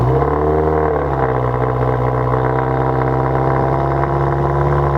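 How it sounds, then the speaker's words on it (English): A 2018 Subaru WRX engine cold-starts and settles into a loud, steady idle with a low rumbling drone, heard up close and alone. "Let's go ahead and get it cranked up with a cold start for you guys."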